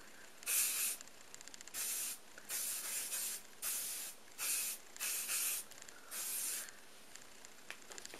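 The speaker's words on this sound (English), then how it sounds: "I'm going to do one more little layer of hairspray" Short hissing bursts of hairspray from an aerosol can, about eight in an uneven rhythm, close and fairly soft with quiet pauses between them.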